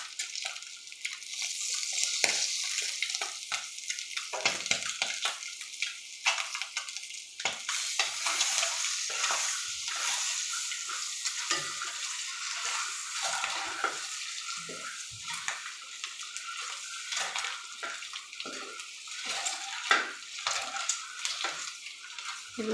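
Eggs fry in a pan with salt and chilli powder, giving a long, steady sizzle broken by soft scraping stirs, close and moderately quiet with no talk.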